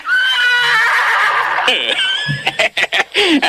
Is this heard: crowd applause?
no